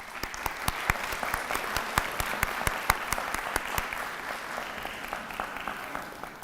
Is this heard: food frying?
no